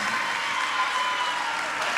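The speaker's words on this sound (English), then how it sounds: "Un aplauso para ellos." An audience applauds performers after a rap battle, a fairly soft, steady wash of many hands clapping at a distance, with faint crowd murmur beneath.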